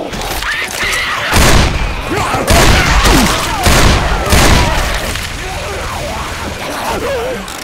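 Heavy gunfire and booming blasts in Left 4 Dead 2 on the Death Toll campaign, loud irregular bursts of shots and thuds, with voices calling out over the noise.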